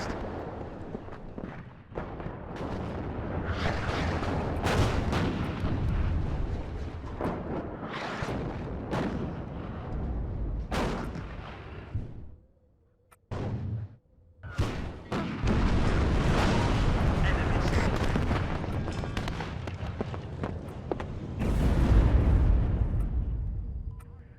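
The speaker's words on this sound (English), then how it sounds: "That wall of artillery." Artillery barrage in the video game WARNO, a dense wall of repeated booming blasts and rumbling impacts, loud and continuous with a brief lull near the middle before the firing resumes.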